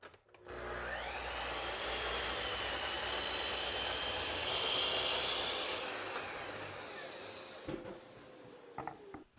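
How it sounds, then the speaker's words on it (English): A saw cuts the back and front legs of a wooden step stool to length, a steady loud whirring rasp running for about eight seconds before it winds down and stops. "Next, I'll cut the back and the front leg of the stool to length."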